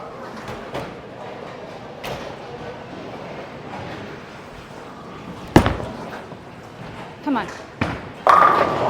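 A bowling ball rolls down the lane at an alley, a steady low rumble under a short spoken exclamation, ending in a burst of pin impacts near the end.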